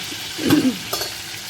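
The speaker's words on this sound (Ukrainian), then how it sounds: "Остання сковорідочка смажиться." A soft sizzle of minced meat frying in a pan, with a couple of faint stirring scrapes, fairly quiet and close.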